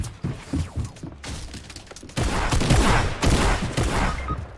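Shotguns fire in a video game as a chaotic fusillade of loud, close blasts and thuds, with heavier overlapping bursts in the second half and no talking.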